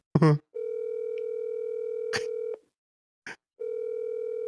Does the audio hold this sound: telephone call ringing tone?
yes